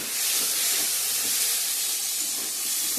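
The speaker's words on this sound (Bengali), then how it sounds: "চলো ভালো করে কষিয়ে নিই।" Banana flower cooking down with spices in a hot pan makes a continuous, fairly loud steamy hiss and sizzle up close, with faint stirring underneath and no voices.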